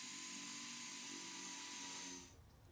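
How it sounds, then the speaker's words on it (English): A power drill bores through the paired back panels of a wooden frame assembly, a loud, steady whine that runs for about two seconds and then cuts off. "we're going to insert both sides of the back panel together and drill them together"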